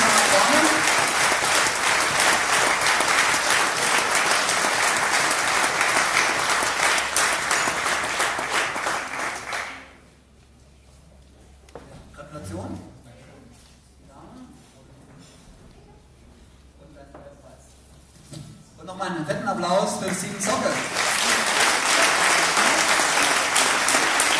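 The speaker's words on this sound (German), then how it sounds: "Applaus!" Loud audience applause at a hackathon award ceremony in Karlsruhe, sustained clapping that fades to a quiet stretch of murmur before swelling again into another round.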